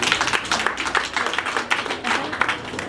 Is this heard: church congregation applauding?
yes